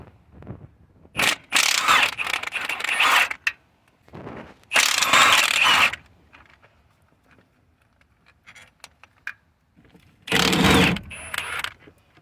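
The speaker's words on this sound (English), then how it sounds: "Now we're gonna remove the 13mm bolt, the old 13 on top of the transmission" A hand ratchet works a 13mm bolt on top of the transmission of a Ford 5.4, giving three loud, close bursts of rapid clicking separated by quiet pauses and a few small metallic taps.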